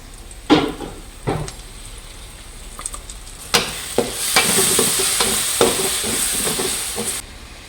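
Chopped onions and tomato sizzle and fry in a pan for duck egg gravy, with a continuous hiss broken by several loud stirring scrapes and clanks of the spoon.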